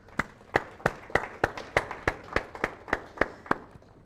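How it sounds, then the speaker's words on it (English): A conference audience claps in a sparse, evenly spaced rhythm of about a dozen distinct hand claps, close and moderately loud in a quiet room. "can we just give ourselves a big round of applause?"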